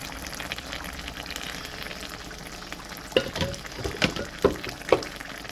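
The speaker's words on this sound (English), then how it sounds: "I'm just gonna stir it with it." Spinach and potatoes cook in a pot with a soft continuous sizzle, then a few close scraping, clattering stirs of a utensil land in the last couple of seconds.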